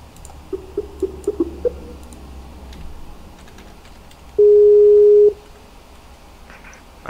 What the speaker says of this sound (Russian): Ща, Морган, тебя наберу.